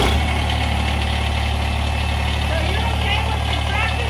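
A diesel tractor engine runs close by with a steady, unbroken low rumble, holding an even idle throughout.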